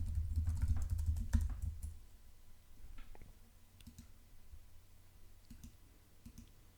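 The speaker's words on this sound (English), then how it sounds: "Off screen, I'm typing some code in order to implement the business logic of our ping" Typing on a computer keyboard while writing code, bursts of quick clicking keystrokes, denser and louder at first, then sparser taps and pauses, close to the microphone with no talking.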